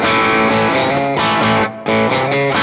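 A loud, sustained distorted electric guitar, a Telecaster played through a cocked wah pedal, with a fixed, nasal wah-filtered tone, chords ringing and briefly dipping before ringing out again.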